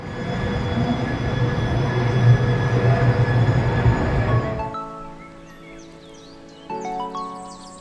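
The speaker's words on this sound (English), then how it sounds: "So this is the tram. As I told you guys, you can see it is moving on the tracks." A tram runs along its tracks with a loud, steady rolling rumble that fades after about five seconds into quieter hums, whines and brief squeals.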